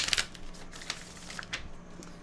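A deck of playing cards is shuffled and moved around by hand. It makes quiet, crisp riffling bursts, sharpest at the start and then in a few softer flicks, with no talking.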